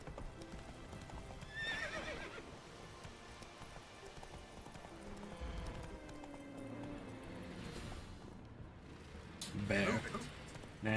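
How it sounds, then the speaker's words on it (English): Roach, a horse in The Witcher 3 video game, stands grazing on flowers; hooves clip-clop and a whinny rises amid game ambience, with a louder burst near the end. "Horsey! Goddamn roach. He's just standing there eating flowers."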